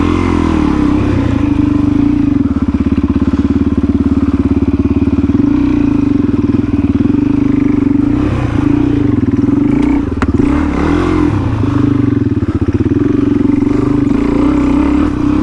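A motorbike climbing a rocky trail near Sydney, its engine droning loud and close the whole time and surging in repeated revs as the rider gives it throttle over the rocks.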